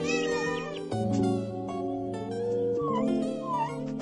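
A cartoonish kitten in the Nintendogs+Cats game for Nintendo 3DS gives several short tonal meows over a light backing tune, fairly clear and close.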